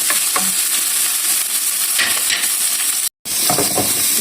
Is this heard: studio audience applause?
no